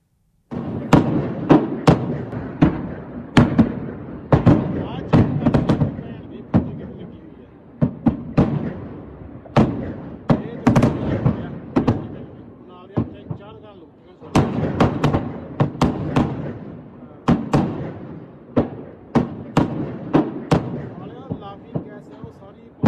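Explosions go off one after another at a warehouse fire: sharp, irregular bangs and cracks in uneven clusters, some loud and near, some fainter, with voices in the background.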